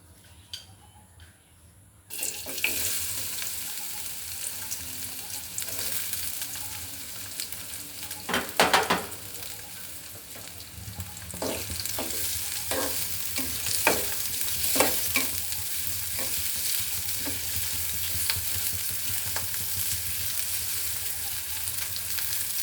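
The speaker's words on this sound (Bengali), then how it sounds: "ভাজিটা বসিয়ে ফেলি তেল দিয়ে দিলাম এখন দিয়ে দিব এখানে পেঁয়াজ কাঁচামরিচ" Vegetable bhaji with onion and green chili frying in oil: a bright continuous sizzle swells after a quiet start, broken by repeated scraping stirs of a spoon in the pan.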